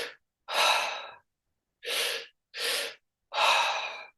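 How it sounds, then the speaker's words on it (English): Forceful two-part breathwork breathing: a short sharp intake, then a long deep inhale and three more strong, airy breaths, each separated by brief silences, close and loud. "but it is that 2-part breath."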